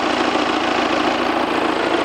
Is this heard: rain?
no